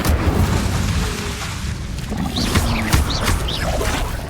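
Incendio fire spell cast in the Hogwarts Legacy video game, a dense roaring burst of flame layered with booming, crackling bursts and sweeping whooshes, loud and continuous over a rumbling low end.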